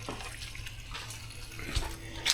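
Coolant is poured back into a Land Rover's cooling system, a soft close liquid trickle and gurgle under a low steady hum. Faint splashes come near the end.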